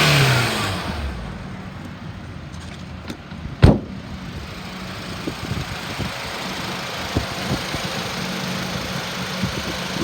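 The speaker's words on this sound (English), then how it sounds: "I'm gonna rev it up so you can hear the motor." A 2005 Acura TSX engine idles, then is revved in several short bursts that rise and fall, with a sharp knock near the start and no talking.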